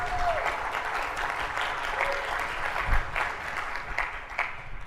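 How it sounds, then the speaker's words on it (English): Applause from a conference audience at an Agile2022 talk, steady clapping of a modest crowd filling the room for about five seconds, with faint voices underneath. "how did Dustin get applause so early?"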